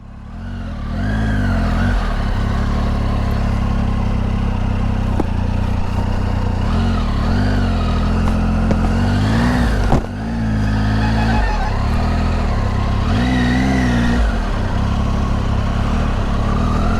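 A Triumph Tiger 800 motorcycle engine drones steadily and loudly on a mild off-road trail, the pitch rising and falling with throttle changes and a brief dip near the middle, with no talking.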